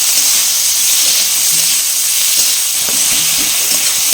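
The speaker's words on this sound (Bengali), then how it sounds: "এবার এর মধ্যে কুচিয়ে রাখা টমেটোগুলো দিয়ে দেবো। টমেটোগুলো দিয়ে নেড়ে চেড়ে" Chopped tomatoes hit hot oil in a pan and sizzle loudly and steadily, a dense close hiss with faint stirring knocks underneath and no talking.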